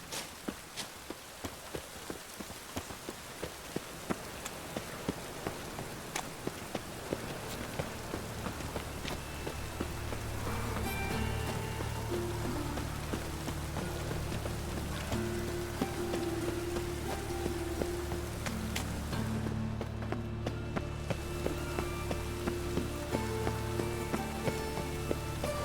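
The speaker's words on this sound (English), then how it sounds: "Looks like rain." Rain falling in the video game The Witcher 3, a steady soft patter that builds under a rising low ambient score, with faint footstep-like taps along the way.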